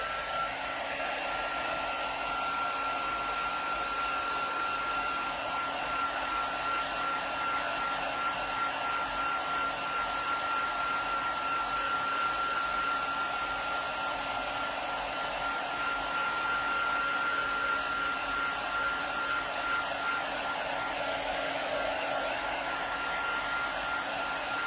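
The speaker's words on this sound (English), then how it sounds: "Just come with my heat tool." A craft heat tool blows hot air in a loud, continuous, steady whirring hiss with a constant tonal hum, close and uninterrupted throughout.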